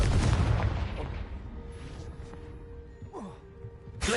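A Confringo explosive spell blasts in a Hogwarts video game, a loud booming burst at the start that decays into a rumbling tail, followed by fainter game effects and a whooshing swish near the end.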